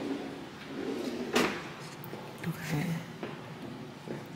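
A wooden wardrobe door slides and clunks open with a few knocks and rattles, moderately close, amid faint room noise in an apartment.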